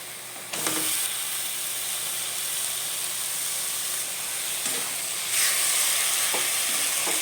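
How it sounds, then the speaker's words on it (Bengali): Taro flowers drop into a pan of sizzling spice mix, a steady loud frying hiss that swells sharply as they go in, with a few scraping stirs and a second surge of sizzle near the end. "এবার আমি এর মধ্যে কচুর ফুলগুলো দিয়ে দেবো"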